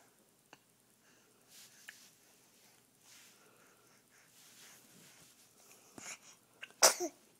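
In a quiet room, a baby gives one sharp, close sneeze near the end. Before it come faint rustles and small breathy sounds.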